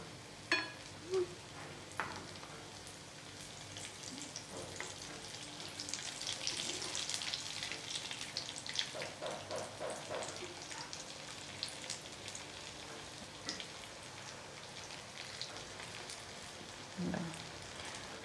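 A veg cutlet fries in hot oil just after being flipped, giving a soft, steady sizzle with scattered crackles and a few faint clicks of utensils, fairly quiet and close.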